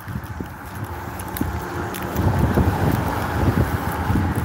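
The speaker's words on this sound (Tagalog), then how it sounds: "Ang lamig na simoy ng hangin." Cold morning wind gusting steadily against the microphone outdoors, a constant low rumble and hiss that grows slightly stronger toward the end, with faint footsteps underneath.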